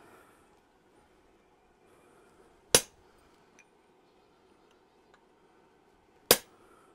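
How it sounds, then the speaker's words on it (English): Two sharp, loud metallic strikes several seconds apart, each ringing briefly, as a hammer drives a cold shearing punch into steel while shaping a horse head bottle opener, with quiet room tone in between. "Going to use a punch. It's like a chisel, but I call it a punch because it will actually shear and leave a plug."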